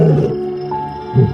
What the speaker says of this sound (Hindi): उसकी दहाड़ बिल्कुल ही अलग थी।